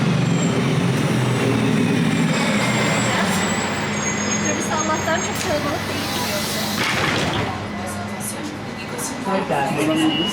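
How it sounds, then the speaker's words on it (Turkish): An Istanbul Metrobus pulls in with a heavy, rumbling diesel drone and a surge of mechanical noise midway as it arrives close by, while people talk over it. "Allah'tan şansa direkt boş bir metrobüs geldi."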